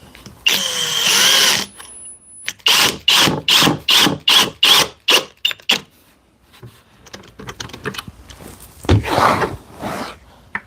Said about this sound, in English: go ahead and re-drive in the square head screws from this into this piece of plywood